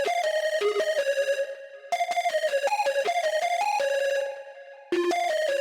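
A bright, plucky hyperpop synth lead with no effects plays a quick repeating melodic pattern of sharp, bell-like notes. It is loud and alone, with short gaps between phrases.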